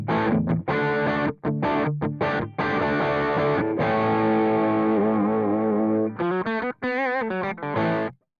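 Electric guitar run through a Nux MG-300 multi-effects pedal with an Orange 1x12 cabinet impulse response plays loud distorted chords and riffs with short choppy breaks, ending in a quick run of picked notes before cutting off.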